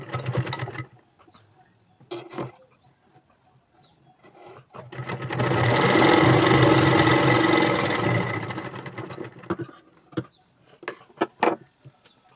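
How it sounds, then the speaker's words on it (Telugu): A sewing machine stitches piping cloth onto a boat neck blouse. It starts with short stops and starts, then runs in one long, steady whirring burst of several seconds, and ends in brief stuttering runs and clicks. "ఇప్పుడు దీనికి పైపింగ్ వేయడం కోసం పైపింగ్ క్లాత్ని ఈ విధంగా ఉంచి కుట్టు వేసుకోవాలి."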